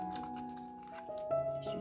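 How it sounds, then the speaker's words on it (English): A folded paper flap on an origami Christmas tree being pressed and creased, soft close papery crinkles and rubs against a steady faint background tone, no voices. "Put the finger in, open it up, and fold it down."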